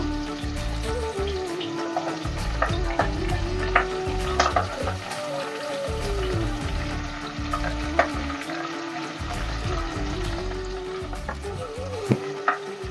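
Curry leaves sauté in hot oil in a pan for Puneri misal pav, a steady close sizzle and frying crackle with occasional stirring scrapes and clinks, no voices.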